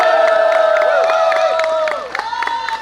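Rally crowd at an outdoor political gathering responds with rhythmic clapping and sustained raised voices, loud and close, the chanting tone breaking off partway as the clapping turns more scattered.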